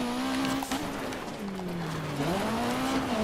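A rally car in the video game DiRT 2 slides under the handbrake, its engine droning steadily with pitch dipping and rising, while tyres scrub and skid on loose ground, loud and close.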